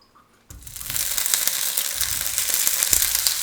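Sausages for rougail saucisse hit a hot pan after a brief quiet moment, bursting into a steady, close, crackling sizzle that keeps going with small pops and clinks.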